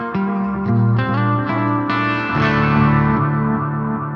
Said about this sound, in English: A little bit too much reverb